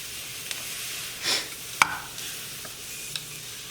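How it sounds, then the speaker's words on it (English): Green onions char in a hot pan, giving a steady, close sizzle with a few brief stirring scrapes and clicks, heard alone without talk. "Getting all this moisture out, getting a nice char on our green onions."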